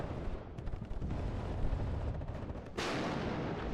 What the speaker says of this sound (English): So T-80 just firing down the road here towards the AMX-30